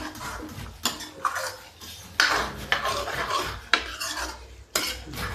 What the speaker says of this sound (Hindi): गरम मसाला पड़ गया, इसको चला देते हैं